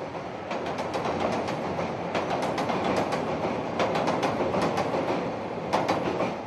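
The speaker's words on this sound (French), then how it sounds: "La respectable Lady C57-1 entre dans la ville de Tsuwano." C57-1 steam locomotive train rolling into Tsuwano, Japan, a steady loud rumble with rhythmic clickety-clack wheel beats and occasional sharp metallic clatter, heard without talk.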